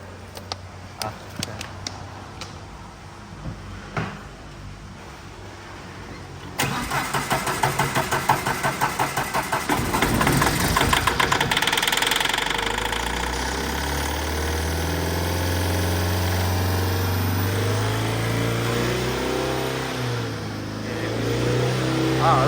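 A car left parked for a long time cranks several times, catches and starts, then revs and settles into a steady idle, close and loud, with occasional voices nearby.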